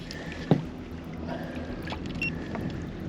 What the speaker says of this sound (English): We're gonna just really slowly, not that slowly, start trolling motoring